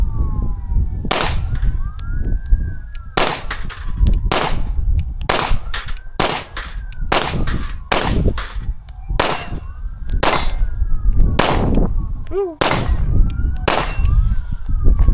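A Glock 45 pistol fires a steady series of loud, sharp close-range shots with metallic ringing between them, a rhythmic string of roughly a dozen reports and no talking.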